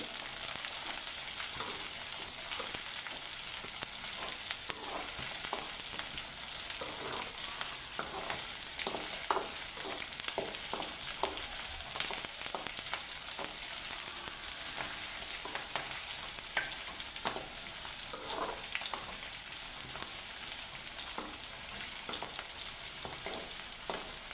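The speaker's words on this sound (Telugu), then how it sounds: "పచ్చిమిర్చి ఆనియన్స్ రెండు ఫ్రై అయ్యేంత వరకు వేయించుకోవాలి." Green chillies and onions fry in a pan for chicken curry, a loud, steady sizzle with occasional stirring scrapes, heard alone without talk.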